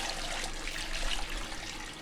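Water pouring steadily into a large canning pot being filled for a water bath, a dense hissing splash at a constant moderate level, alone without talk.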